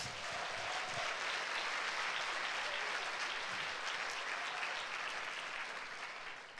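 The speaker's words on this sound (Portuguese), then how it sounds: "Só quem recebe, dê um aplauso a Jesus." Church congregation applauding during a Sunday worship service, a dense, steady wash of clapping from many hands that holds evenly throughout and fades slightly at the end, with no talk over it.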